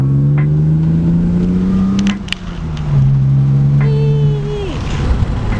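A BMW E36 with a newly installed exhaust idles and revs, a loud, deep droning engine note that rises, drops back, then climbs in another rev before easing off, heard close up.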